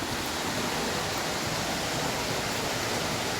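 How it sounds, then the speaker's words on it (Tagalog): A waterfall in San Gabriel, La Union makes a dense, unbroken rush of falling water, loud and steady throughout, with no voices over it. "Ang falls na ito ay nakakamangha sa ganda."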